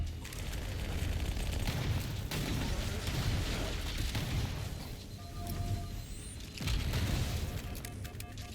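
Dense gunfire and explosions in the Halo: Campaign Evolved video game, a continuous loud barrage of shots and booms with brief lulls, with no talk over it.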